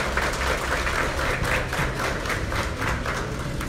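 An audience at the opening of a fuel station in Ponta Porã applauds a city councillor with brisk, steady clapping from many hands, fairly close and continuous throughout.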